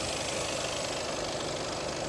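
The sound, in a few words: diesel engine running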